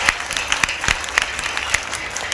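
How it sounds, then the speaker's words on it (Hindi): An audience at a Satnami community bhoomi pujan gathering claps to honour a donation, a short burst of moderately loud, uneven hand claps with sharp individual claps standing out over a steady patter. "जोरदार ताली बजा के"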